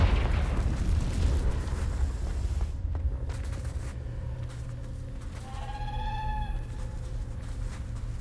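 The Confringo blasting spell from the game Hogwarts Legacy goes off as a loud, close boom that rumbles and fades over a few seconds. A thin, wavering tonal cry follows while the rumble dies away.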